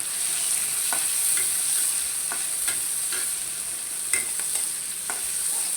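Chopped onion and chili hit hot oil left from frying fish, giving a steady bright sizzle with occasional stirring clicks and scrapes, close and continuous without talk.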